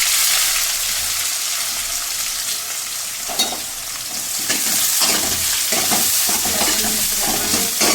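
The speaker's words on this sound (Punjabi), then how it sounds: "ਸਾਡਾ ਆਇਲ ਗਰਮ ਹੋ ਚੁੱਕਾ ਹੈ ਹੁਣ ਅਸੀਂ ਇਹਦੇ ਵਿੱਚ ਪਾਵਾਂਗੇ ਜੀਰਾ ਹੁਣ ਅਸੀਂ ਪਾਵਾਂਗੇ ਪਿਆਜ਼" Cumin seeds and onion go into hot oil, setting off a loud, close sizzle. A hiss starts it, then crackling and stirring scrapes swell into a dense, continuous fry.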